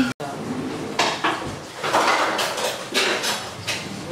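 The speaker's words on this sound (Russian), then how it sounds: "Бабушка моет посуду." Dishes clatter and clink in a sink, with intermittent knocks of plates and pots under continuous running water, fairly close and steady.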